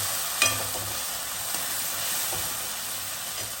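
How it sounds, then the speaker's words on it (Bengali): Milk poured into a pan of frying spice paste for a pabda fish mustard-poppy seed curry, giving a brief splash near the start and then a steady close sizzle and hiss. "এবার কিন্তু দিয়ে দেবো আমি দুধ।"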